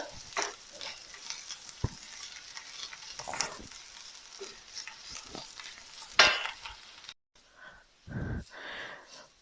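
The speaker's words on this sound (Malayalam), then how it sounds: "ഇളക്കി കൊടുക്കാൻ മറക്കരുത് കേട്ടോ, കാരണം ഹൈ ഫ്ലെയിമിലാണ് ഇട്ടിരിക്കുന്നത്." Red carrot halwa stirred in a pan over a high flame, with steady frying sizzle and repeated scraping and clinking of the spoon against the pan, fairly close, with a brief pause near the end.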